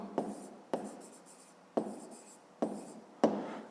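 Pen writing in a school notebook during a maths exercise, five distinct close scratchy strokes or taps, each followed by a short fading scrawl, quiet and alone.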